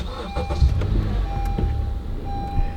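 A modern Honda car engine starts with the push button, its low rumble kicking in and settling into a steady idle close by, with a faint electronic tone over it.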